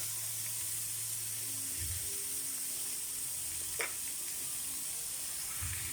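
Sliced chayote sautéing in a pan, a soft steady sizzle with a brief sharp hiss midway and low clunks of stirring, close, no speech.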